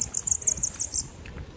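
A bananaquit (sibite) gives a quick run of about five thin, high chirps close by, then falls quiet, with no voices over the calls.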